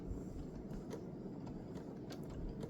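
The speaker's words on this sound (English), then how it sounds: "I'm going to put my needle down, okay? And I sew very slowly." A sewing machine stitches slowly along a seam line joining quilt blocks, a soft continuous mechanical rumble with faint rhythmic ticking of the needle, quiet and close.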